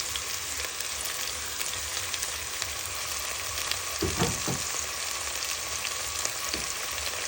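Garlic, basil and oregano with onion sizzle steadily in a frying pan, a continuous close hiss with a few brief stirring clatters partway through and no talk.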